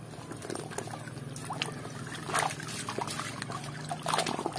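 Water trickles and pours while a collection of toys is washed, a continuous splashing dribble with a few louder splashes, and no voices.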